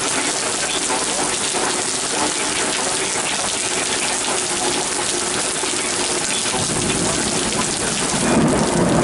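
A bad thunderstorm in Pittsfield, Massachusetts brings steady, heavy rain hissing on surfaces, with a deep roll of thunder swelling near the end; no talk is heard.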